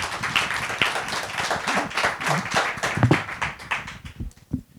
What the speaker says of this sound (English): I was not going to stop the applause for the film.